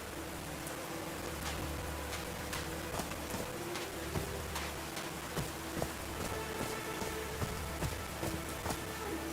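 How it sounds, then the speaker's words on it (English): Rain falls steadily in a video game scene, a dense, even hiss of drops with scattered sharper patters and taps striking surfaces, constant and close, with no voices. "These drops of rain are so refreshing."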